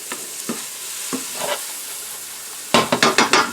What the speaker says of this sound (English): You'll get the bits to scrape off on the pan, the bottom of the pan.